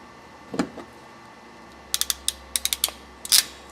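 An ignition harness terminal is squeezed in a crimping tool, giving quiet clicking ratchet snaps: one early click, then a quick burst of several close clicks and a final crunch, faint against a quiet room.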